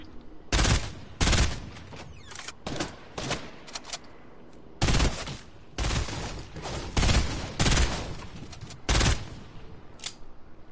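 SMG gunfire in a PC or Xbox shooter game: repeated loud bursts of rapid automatic fire, separated by short pauses, spread across the whole stretch with no talk over it.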